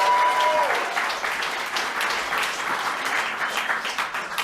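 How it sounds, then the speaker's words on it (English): A comedy club audience bursts into sustained applause, loud and dense at first, then thinning slightly as the clapping carries on for several seconds. "let's give a big round of applause for Stewart Huff"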